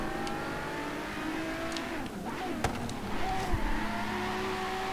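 Quartz Regalia car engine in Forza Horizon 3 drones steadily at racing speed, with a near continuous hum, a brief sharp transient midway and a rougher, louder stretch toward the end, no talk.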